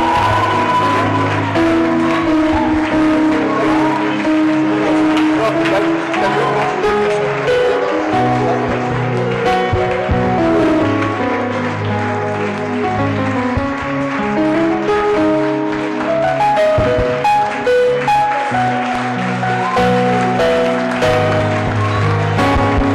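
A church congregation at a Bible conference applauds and cheers, a loud continuous wash of clapping and voices mixed with music, sustained and close throughout.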